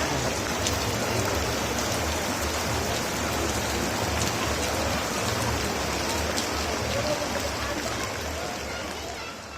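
Heavy rain pours steadily, a dense continuous hiss of drops drumming on surfaces, with a low rumble underneath, fading slightly toward the end.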